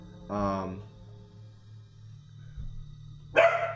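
A dog gives two sharp, close barks, one near the start and one near the end, over a low steady hum with quiet gaps between.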